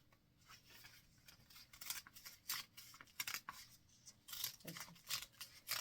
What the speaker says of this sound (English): I'm just going to grab a bunch of pages and cut it in approximately into thirds